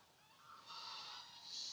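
Geese call faintly in the distance at an autumn river, a few drawn-out honking cries over a quiet outdoor background.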